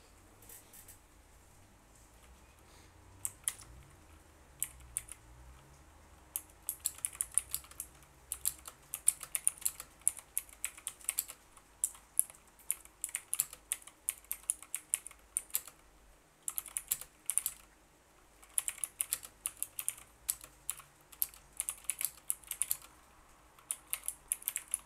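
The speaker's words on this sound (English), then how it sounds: "try and do this test with touch typing" Rapid keystrokes on a computer keyboard come in bursts during a typing test, close and crisp, with short pauses between flurries and no talking.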